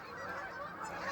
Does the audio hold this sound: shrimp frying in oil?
no